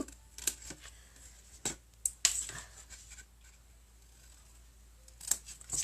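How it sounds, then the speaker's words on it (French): Large scissors snipping through cardboard while a scalloped box is made, a handful of sharp separate cuts spread across a quiet room with pauses between them. "je pourrais prendre mes petits ciseaux, là, les grands"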